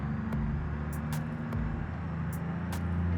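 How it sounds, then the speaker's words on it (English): A semi truck in a trucking video game runs with its Jake brake engaged, giving a steady, loud, low engine rumble with a droning throb that holds throughout, broken by a few short clicks and ticks. "let me turn on the Jake brakes"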